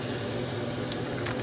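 Ground beef sizzles in a frying pan, a loud, steady hiss and crackle that continues throughout.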